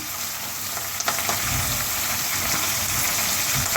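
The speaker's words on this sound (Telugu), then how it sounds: "తర్వాత కరివేపాకు వేస్తున్నాను తర్వాత ఉల్లిపాయ ముక్కలు వేస్తున్నాను" Curry leaves and onion pieces frying in hot oil, a steady close sizzle with a few sharper pops and crackles.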